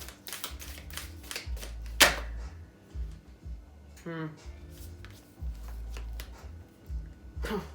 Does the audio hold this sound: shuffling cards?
yes